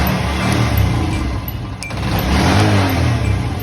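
A kick-started motorcycle engine fitted with an anti-theft kill switch runs close by, a loud steady mid-pitched idle with a brief dip before picking back up, no talking.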